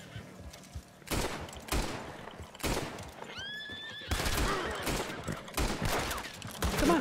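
Gunfire in the Red Dead Redemption video game: sharp repeated shots in irregular bursts, with a horse whinnying in the middle and hooves clattering, all fairly close and loud.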